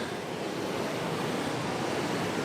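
Rushing rapids of the Niagara River beside an island near the Horseshoe Falls, a steady, dense roar of churning water filling the scene without pause from start to finish.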